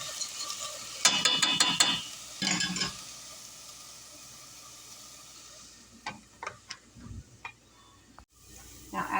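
Minced garlic, onion and ground meat stirred in a hot pan for beef chili, with bursts of scraping and sizzling around the first three seconds, then quieter scattered clicks and utensil taps against the pan.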